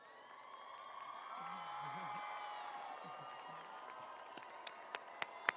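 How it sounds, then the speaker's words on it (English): Commencement audience applauding and cheering, a broad steady wash of clapping with crowd noise that swells, then a few sharp louder claps near the end. "please give them another round of applause"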